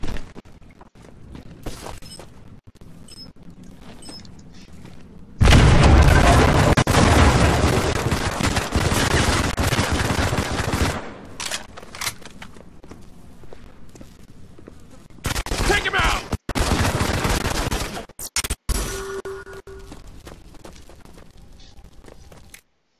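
Gunfire in the Modern Combat 5 Blackout campaign: a loud, dense burst of shots for several seconds, then scattered bursts and single cracks, with quieter ambient game sound before and after.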